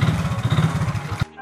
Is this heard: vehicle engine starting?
yes